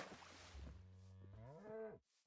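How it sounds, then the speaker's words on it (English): A single cow moo from a video game, a loud drawn-out low call that rises in pitch near the end before cutting off, heard alone without talk. "Did they add a cow sound?"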